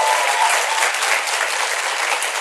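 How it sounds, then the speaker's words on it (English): A sustained wash of clapping from a large audience, loud and even, running steadily through the whole moment with no voices over it. "That's a cheap applause line."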